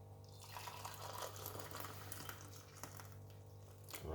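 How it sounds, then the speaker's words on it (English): Hot water pours steadily into a cup or container for about four seconds, a continuous close splashing stream with a gurgling fill sound and no talking. "Now what we're gonna do is pour some hot water."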